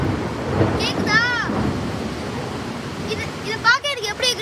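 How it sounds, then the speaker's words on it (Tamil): Thunder rumbles loudly during a storm, with a steady wash of rain beneath the deep rolling sound, while people talk over it. "கடல் உரும்புற மாதிரி இடி உரும்புது"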